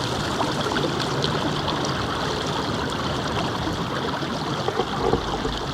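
Spring water flowing inside the Ghamqa cave, a steady rushing stream with no talk, loud and close throughout.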